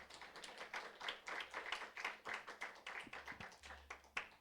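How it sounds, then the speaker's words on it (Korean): A church congregation claps to welcome the pastor at an afternoon praise service, a quiet, rhythmic run of individual claps close by, steady and evenly paced throughout. "우리 이 목사님 모실 때 우리 박수로 환영하겠습니다"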